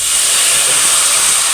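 Water poured into a hot pan with ghee while frying for Palestinian maqluba, a loud steady sizzling hiss that holds without a break.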